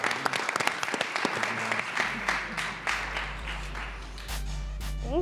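An audience at a college business pitch competition applauds the contestants with dense clapping that slowly thins out and fades, while a voice speaks near the end.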